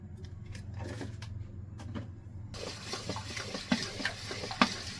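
Soaked semolina and rice flour batter is stirred with salt in a bowl, giving soft wet sloshing and scraping with a few louder clinks near the end, quiet and close.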